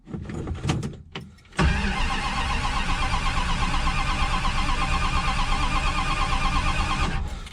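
A 1960s Dodge Dart GT with a 273 V8, long left sitting cold in a yard, cranks briefly, then catches and settles into a steady, loud rumbling idle close by that runs for several seconds before cutting off.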